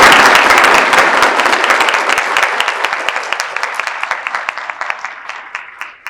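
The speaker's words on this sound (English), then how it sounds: "So if we could just give a huge round of applause." A school board meeting audience breaks into applause, dense clapping that starts strong and gradually thins and fades over several seconds.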